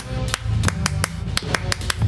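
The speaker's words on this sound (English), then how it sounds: "Clap, goddammit." A handful of people clap sharply in a room, giving a loose burst of several distinct, fairly close hand claps with a low hum of voices underneath.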